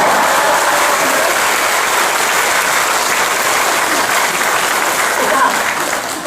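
A church audience breaks into loud, sustained applause, many hands clapping densely and evenly for about six seconds, fading slightly at the end.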